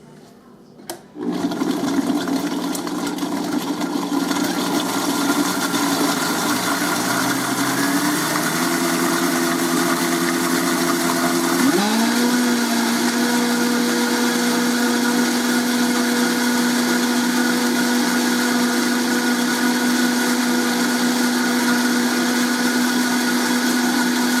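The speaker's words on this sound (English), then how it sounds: "and I'm going to blend this up first." A blender whirs through salad dressing ingredients, kicking on loudly after a brief click and holding a steady motor drone that shifts pitch partway as the mixture loosens, close and alone with no talking.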